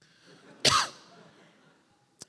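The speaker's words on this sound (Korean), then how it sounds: "조금만 세게 얘기하면은 기침 나옵니다" A single sharp cough from a preacher in the middle of a sermon, one loud burst that fades into quiet room tone, with a faint click near the end.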